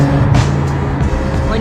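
A Ferrari California T engine accelerates from inside the car, a loud steady drone under a driver's voice.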